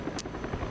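A helicopter arrives in the PUBG video game, a steady low rotor thrum with a brief sharp burst of noise near the start, heard alone.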